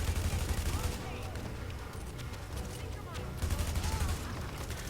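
Rapid bursts of gunfire from the Hitman video game, repeated volleys of shots throughout, loud and dense in the mix.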